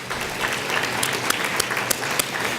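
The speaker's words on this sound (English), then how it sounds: "Can we just give them a round of applause" An audience at an autism awareness morning tea applauds the Rotary Club of Scarborough, a moderate, fairly small group clapping steadily with a few sharp, distinct claps standing out close by.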